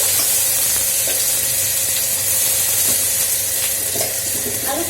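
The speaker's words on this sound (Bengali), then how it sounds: "এই যে আলু ছেড়ে দিয়েছি, তারপর ভিন্ডিটা দিচ্ছি।" Potatoes and okra frying in a pan, a loud, steady close sizzle with light scraping stirs, no talking.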